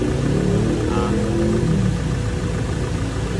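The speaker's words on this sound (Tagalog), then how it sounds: "Ayan, in-start po uli natin. Ang lakas ng compressor." A Nissan Estate's air-conditioning compressor running strongly just after the engine is restarted, a steady loud mechanical whir and hum over the idling motor, close and continuous with no talk.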